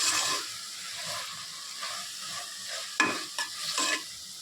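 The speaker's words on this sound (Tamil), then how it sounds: "நல்லா கிளறி விட்டுட்டு நல்லா மசாலாலாம் அப்படியே கொஞ்சமாக கிளறி விட்டுட்டே இருக்கணும்." Chilli powder masala being stirred and fried in a pan for tomato rice, a steady sizzle under repeated scraping strokes of a spoon, close and moderately loud, with a few sharper clinks near the end.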